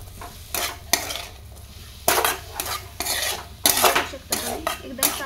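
Ghevda bean pods stir-fry with salt in a pan, and a utensil scrapes and clatters against the metal in repeated bursts over a soft sizzle.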